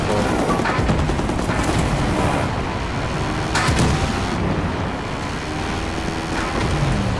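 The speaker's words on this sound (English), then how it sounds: "Let me shoot him right here." Gunfire from the Halo 5 video game rattles continuously through the clip, dense and loud, with brief bursts standing out over a steady background of game noise.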